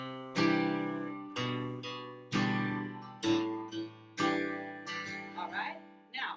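An acoustic guitar plays a walkdown in G: five strummed chords, each with a distinct bass note stepping downward, ringing out at an even pace, close and fairly quiet, alone.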